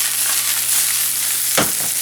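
Onion, garlic and mushrooms with black pepper and chili flakes sauté in a pan, giving a steady broadband sizzle with a brief stir or scrape near the end, fairly close and with no voices.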